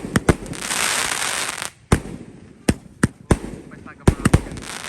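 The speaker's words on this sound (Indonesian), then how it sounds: "Pesta kembang api." Mercon Basoka Roman candle fireworks fire in a rapid series of sharp, loud bangs with crackling hiss between them, close by, as voices talk in the background.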